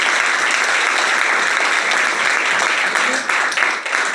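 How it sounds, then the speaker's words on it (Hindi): Audience applause for an organisation at a business presentation, a dense, loud wash of clapping that carries on unbroken for several seconds, with no voices over it. "तो ऐसी संस्था के लिए दोस्त एक बार जोरदार तालियां।"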